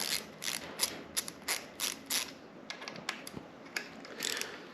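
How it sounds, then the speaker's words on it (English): A small bit-driver ratcheting wrench with a Torx bit clicks in short repeated bursts while loosening bolts on a KTM motorcycle throttle assembly, the ratchet chattering close up in a garage. "I have got a little ratcheting wrench with that accepts bits, Torx bits on it. I'm going to use that to pop this loose."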